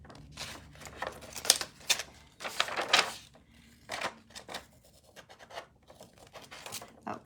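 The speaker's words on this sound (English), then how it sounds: "So I'm going to cut away those score lines if I can" Close scraping and rasping strokes come from a blade cutting card stock to remove score lines, in irregular bursts with quiet pauses between.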